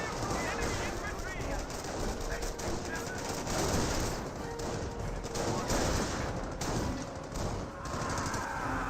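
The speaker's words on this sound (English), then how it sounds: "I hear 30 cal hitting this MG42." .30 cal machine gun fire striking an MG42 position in Company of Heroes, dense rattling bursts of gunfire running throughout amid battlefield noise, with a voice talking over it.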